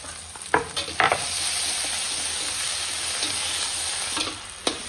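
Chopped tomato sizzling steadily in a hot pan for a chana dal dish, with a few sharp clicks and knocks of a spoon stirring, close up and with no talk.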